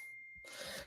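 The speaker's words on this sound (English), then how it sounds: "That was my phone going off." A phone alert chimes during a live sports broadcast, a steady thin electronic tone followed by a short bright burst, brief and clear with no talk over it.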